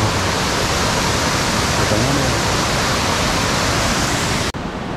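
Loud, steady broadband roar of a large waterfall of about 30 to 50 m in the rocky gorge of Seoraksan's Twelve Fairies valley, a constant rushing wash close by with a brief dip near the end.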